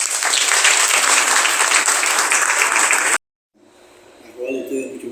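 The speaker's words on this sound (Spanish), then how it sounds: "Yo quiero sumarme al aplauso que ustedes han ofrecido" Audience applause at the closing session of a national legal symposium, steady dense clapping for about three seconds that cuts off abruptly, then quiet room noise with a faint voice.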